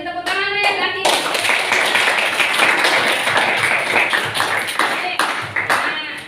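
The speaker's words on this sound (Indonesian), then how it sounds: "Jadi beri tepuk tangan ya lagi." Students in a high school chemistry classroom clap together in a loud, dense burst lasting several seconds, with a teacher's voice heard just before it starts.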